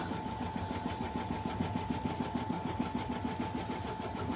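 A sewing machine attaching a stuffed toy's ear runs in one steady, close whir with a fast regular needle patter and a faint tonal hum, no voices.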